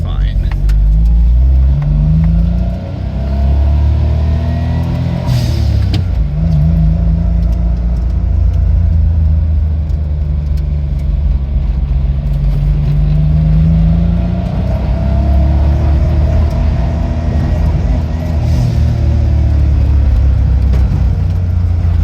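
An Autozam AZ-1 kei car fitted with a Keisport ECU drives along, its small engine droning loudly and steadily with repeated rises and falls in pitch as it revs and shifts, heard from inside the cabin with a voice talking at times.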